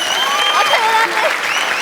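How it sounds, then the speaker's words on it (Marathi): A Marathi comedy stage audience applauds loudly as the chief guest is invited up, the crowd's clapping mixed with gliding tonal sounds like whistles or sung notes riding over it. "जोरदार टाळ्या."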